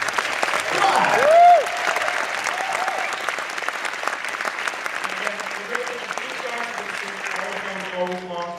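An audience at a film festival Q&A gives a steady round of applause, dense clapping with a brief whoop near the start and a voice coming in toward the end.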